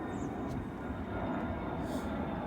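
Jet airplane passing over Atlanta, a steady far-off broadband roar that holds evenly throughout with no voices.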